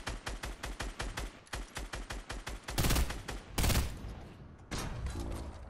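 Minigun in the Fortnite video game firing rapid, evenly spaced bursts, loud and close, then heavier booming blasts and a final rumble, with no talking over it.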